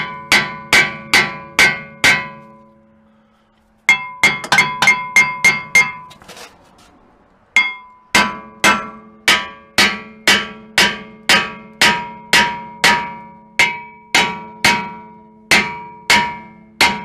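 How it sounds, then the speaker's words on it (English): Sharp metallic clanks ring out in quick even bursts, a steady series of hammer blows on a rear brake rotor of a 2010 Ford Edge, with a brief pause and some scraping midway. "you gotta hit these guys with a hammer to get them off"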